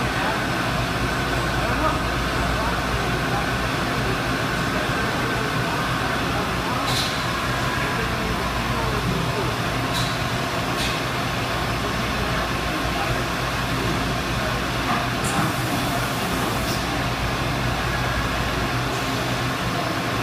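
A 5-axis machining center hums steadily while searching for its next tool, a continuous mechanical drone with a few faint clicks and whirs over the top, heard without talking.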